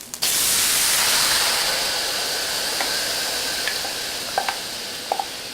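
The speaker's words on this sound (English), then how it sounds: "Now we're going to add the sauce to bring to bubble for about 2 minutes." General Tso's sauce heating in a pan with a steady hiss that fades slowly, a few small pops and bubble ticks rising near the end, close and moderately quiet, no talking.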